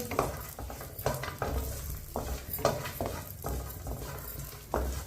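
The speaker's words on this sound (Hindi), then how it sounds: "थोड़ा सा पिस्ता डाल लेंगे। ड्राई फ्रूट को 2 मिनट के लिए भून लेंगे।" Dry fruits and pistachios roast in a pan over low heat, with a run of scraping, rustling stirring strokes and a faint sizzle beneath, close and moderately loud.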